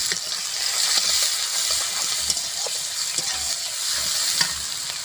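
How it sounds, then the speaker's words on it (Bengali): Bay leaf and finely chopped onion fry in a hot tempering with a dense, steady sizzle up close, broken by soft rhythmic stirring knocks and a few faint clicks. "ফোড়নে দেব তেজপাতা, পেঁয়াজ কুচি"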